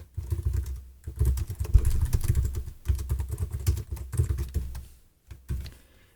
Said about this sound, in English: I want to type my text